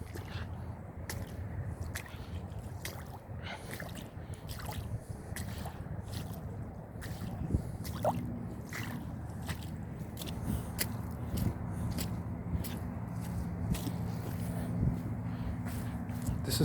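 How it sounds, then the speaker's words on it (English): Footsteps squelch one after another through wet, muddy dirt bike trail ground, a steady run of soft sucking and slapping impacts close by with no talking. "Everywhere I step is moist and wet and muddy"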